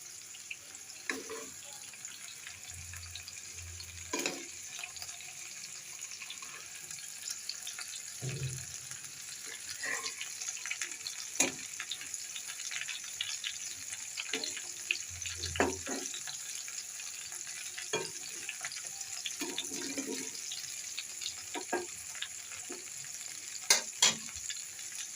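Spiced fish frying in hot oil, a steady crackling sizzle throughout, with occasional low clunks and stirring knocks from the pan, close and moderately loud.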